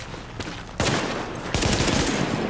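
Bursts of AK assault rifle fire in The Division, a steady stream of rapid shots that grows louder and denser partway through, with no talking.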